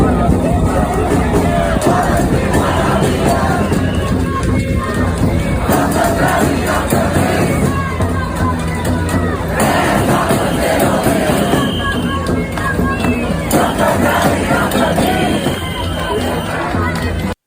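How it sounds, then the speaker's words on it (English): A very large crowd of demonstrators marching through New York streets, a dense continuous roar of chanting, shouting and babble with occasional cheers, loud and unbroken throughout. "So that was the sounds of a very large crowd gathered together on the streets of New York."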